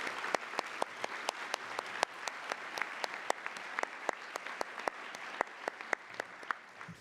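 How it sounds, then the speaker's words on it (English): Audience applause at a marathon charity pasta party, a steady patter of many hands with a few sharper claps standing out, fairly faint and without speech. "please giving them another huge round of applause because they're so important to us."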